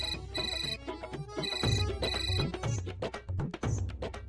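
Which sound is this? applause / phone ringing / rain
phone ringing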